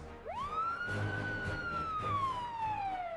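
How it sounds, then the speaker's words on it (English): A police siren winds up quickly and wails in one long rising-and-falling sweep, moderately distant over a low road rumble. "That's a police siren."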